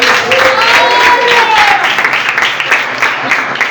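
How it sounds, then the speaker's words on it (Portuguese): A church congregation at a youth worship service claps, a dense burst of applause that thins into scattered claps, with a voice and some singing mixed in. "Bata palmas para o Senhor."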